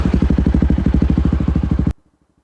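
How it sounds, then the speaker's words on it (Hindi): A Bajaj Pulsar N160 motorcycle engine idles close by with a rapid, steady, thumping putter, then cuts off abruptly near the end. "ये मेरी जो बाइक है ये थोड़ा थोड़ा भाई केटीएम जैसा साउंड करती है"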